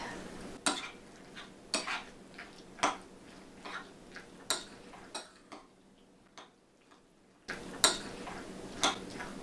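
Boiled eggs are mashed into small pieces with a utensil against a bowl, a series of sharp, close clinks and taps in an irregular rhythm with short pauses between strokes and no talking.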